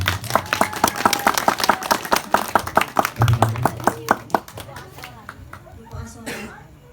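Audience clapping at an Indonesian religious lecture: a burst of quick, uneven hand claps from a group, fairly close, thinning out and fading over the last couple of seconds.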